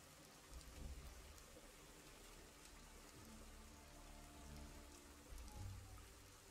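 Steady rain in the video game Lumberjack's Dynasty hisses evenly with soft patters and a low rumble underneath, continuous and fairly quiet, with no voices.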